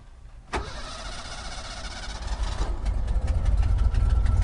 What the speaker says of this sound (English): we will take the key, we will turn the key on